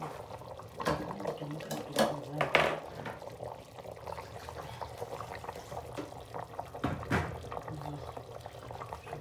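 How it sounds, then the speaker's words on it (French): Water is poured into a pot of homemade pork soup broth, uneven splashing bursts and trickles near the pot, with a voice heard at times. "Je vais mettre l'eau."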